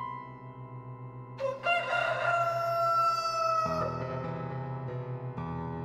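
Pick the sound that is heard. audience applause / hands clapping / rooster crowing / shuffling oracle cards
rooster crowing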